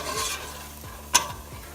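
Sweet onions sautéing in a pan give a soft, continuous sizzle, broken by one brief scrape of stirring near the middle, with no voices.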